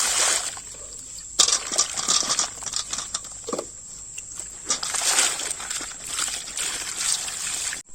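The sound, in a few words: washing chicken in water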